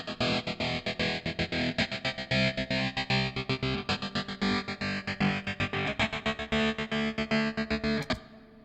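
Guitar part processed with multiple effects and rhythmic panning automation, chopped into a quick stuttering rhythm with a slowly sweeping filtered tone, steady and loud before stopping abruptly near the end.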